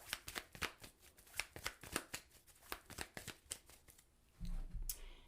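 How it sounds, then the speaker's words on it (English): Tarot cards riffled and shuffled by hand, a quick run of crisp papery flicks and taps close up, ending with a soft shuffle rustle; no speech. "let's pull some clarifying cards for the Tower card"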